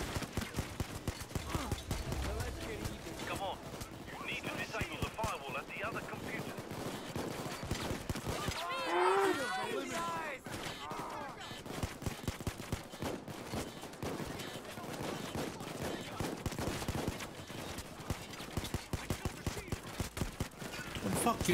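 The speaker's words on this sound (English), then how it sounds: "You're shooting at them, they're not dying." Gunfire in a bank robbery video game: dense, continuous bursts of automatic shots crackling throughout, with frantic voices talking over the fight.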